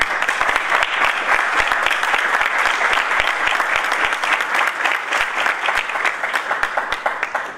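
An audience at a culture council meeting and swearing-in ceremony in Paraná applauds the promulgation of a law, a dense, steady wash of many hands clapping that carries on at full strength for several seconds with no speech over it.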